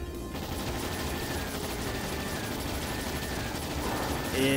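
Ship weapons firing in the video game Trails in the Sky SC during an attack on a dragon, a dense, continuous rattle of rapid shots with mechanical clatter, growing louder at the end.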